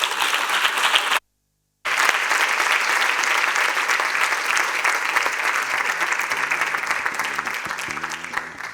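An audience in a hall applauds steadily, dense clapping that stops briefly after a second, then resumes strong and slowly tapers toward the end.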